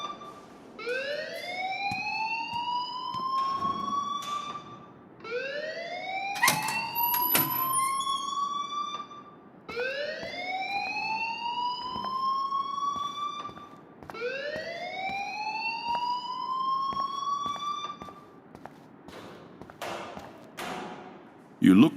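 In the video game Life is Strange, a fire alarm blares as a rising electronic whoop, repeating four times in a steady cycle at moderate loudness, with occasional clicks and thumps between the sweeps.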